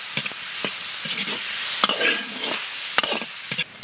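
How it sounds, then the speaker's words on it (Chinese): Diced pork sizzles and fries in a hot iron wok with no oil, a steady hiss broken by sharp clacks and scrapes of a spatula stirring the meat, close up and with no talking. "把铁锅往热烧一下，不用倒油，直接下入切好的猪肉丁。"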